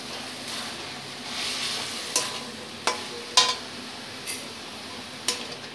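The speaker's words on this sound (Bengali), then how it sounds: "মোচাটাকে কিন্তু ঘন ঘন এইভাবে নেড়ে নিতে হবে।" Banana flower (mocha) fries in a pan for Bengali mochar ghonto while a spoon stirs it: a soft sizzle runs underneath, and sharp scrapes and clinks of the spoon against the pan come several times, alone with no talking.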